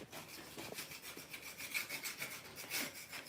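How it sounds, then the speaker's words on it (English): Quiet rhythmic scraping strokes as debris is scraped off a damaged tractor hood, a steady rasping back-and-forth that sounds close but faint. "Scrape some of this stuff."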